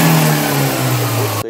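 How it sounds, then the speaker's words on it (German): A used car's engine runs loud and close at a low-budget dealer's lot, a steady drone with a slowly falling pitch before cutting off abruptly at the end. "bei Auto 1 können wir immer mal reinhören. In den Motor."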